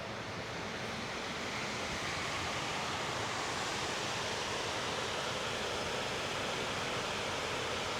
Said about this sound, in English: It sounds like water.